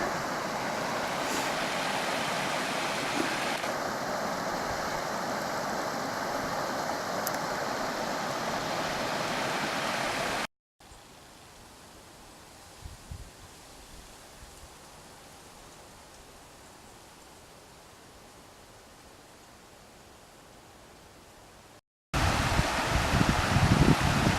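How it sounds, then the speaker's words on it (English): Two creeks merge along Sandspring Trail near Shartlesville, Pennsylvania, giving a steady broadband rush of flowing water, alone and unbroken, with one stretch markedly quieter before the louder flow returns. "the view is where the two creeks run together"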